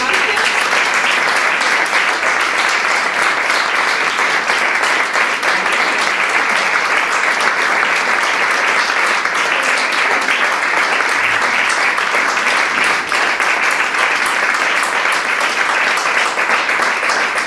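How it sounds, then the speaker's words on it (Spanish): A large theatre-forum audience in a Spanish-speaking community group delivers a long, loud, sustained round of applause, a thick continuous wash of many hands clapping together without letting up. "les doy un aplauso gigante"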